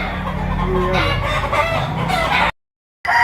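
A rooster crows loudly and close at a chicken sale in Lipa, Batangas, with clucking and crowd murmur around it, then the sound cuts off briefly before resuming.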